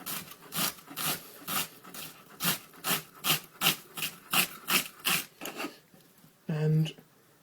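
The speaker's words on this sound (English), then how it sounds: "I'm going to come down on the onion." Knife chopping an onion finely on a board: a steady run of about a dozen crisp, close cuts in regular rhythm, followed by a duller knock, with a voice speaking faintly underneath.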